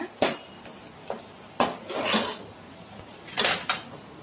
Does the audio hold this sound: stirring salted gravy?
yes